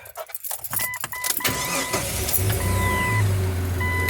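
A car engine starts after a few clicks and clunks, then settles into a steady close idle hum, heard alone without talk.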